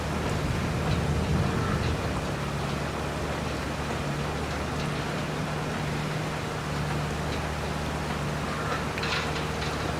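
Steady rain in the video game Farming Simulator 22 on a Missouri farm map, a continuous even hiss of falling drops with no talking over it.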